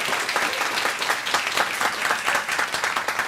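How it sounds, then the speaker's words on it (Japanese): An audience at a chef's talk applauds, a dense, even wash of many hands clapping together, loud and steady throughout with no voices over it. "拍手。"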